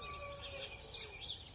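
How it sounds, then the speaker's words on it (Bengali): A cartoon bird chirping, a few quick high tweets in a row, light and fairly faint, with no talk over them. "হঠাৎ একটি পাখি আসে।"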